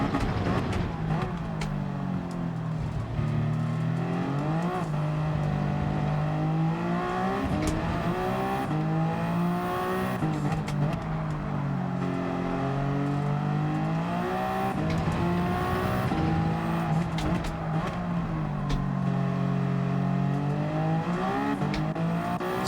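Race car in Gran Turismo 7 revs up and down repeatedly, its engine pitch sweeping through rising and falling gear changes in a continuous, loud stream.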